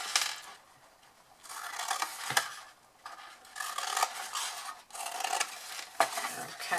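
A blade cuts wedges into the corner tabs of a cardboard box, making several separate bursts of scratchy rasping with short quiet gaps between them, close and soft, with no talking.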